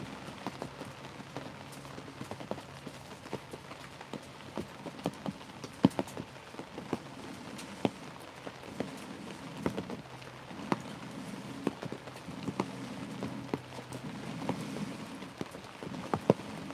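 Steady rain drums on a hot tent in Michigan during spring, a dense continuous patter of drops with scattered sharper taps against the fabric, moderately loud and close, with no talking.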